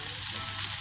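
Chopped garlic hitting hot oil already crackling with cumin seeds, a steady close-up broadband sizzle with no break across the short moment and no talking.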